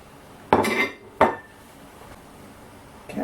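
Corn pieces tipped into a pan for mushroom soup and stirred, giving two sharp clattering scrapes of utensil on metal close up, followed by quiet and a final knock.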